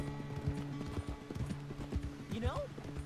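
Horse hooves clip-clop in a steady walking rhythm in Red Dead Redemption 2, fairly close and moderately loud, with a brief whinny partway through and voices talking over it.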